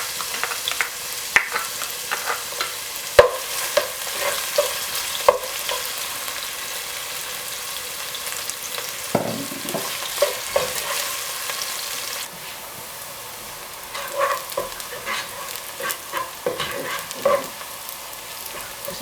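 Onions frying in oil in a cooking pot while rice is prepared, a continuous hissing sizzle broken by frequent scraping and clinking stirring strokes, close and fairly loud, with no talking.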